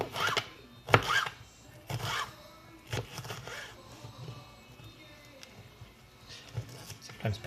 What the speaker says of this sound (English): So I cut down the pepper into quarters, then further into strips, and then again into smaller bits about an inch long.